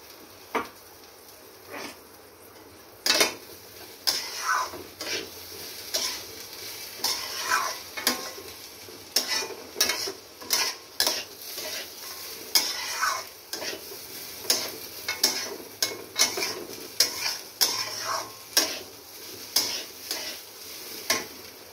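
Chicken for chicken pulao fries in a pot with a steady sizzle, while a utensil scrapes and clacks against the metal in a regular stirring rhythm, close and clear, with no talking.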